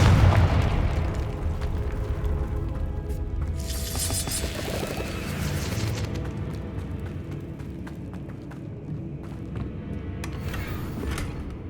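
Repeated Confringo fire-spell blasts in the video game Hogwarts Legacy, booming bursts and pops layered over a dense, continuous rumble of game sound, with brighter crackling flares around the middle and near the end.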